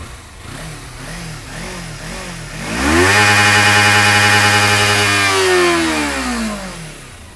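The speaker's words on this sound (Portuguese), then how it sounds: "Para uma 300 cilindradas, ela tem um ronco maravilhoso." A Kawasaki Versys 300 motorcycle burbles at a lumpy idle, then its 300 cc engine revs up sharply to a loud, sustained high-pitched wail before dropping back down, heard up close with no talk.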